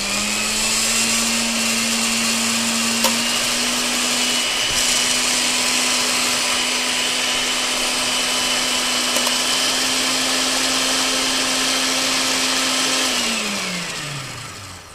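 A countertop blender purees summer carrot soup with a loud steady motor whine running for about thirteen seconds before spinning down at the end, close and without speech.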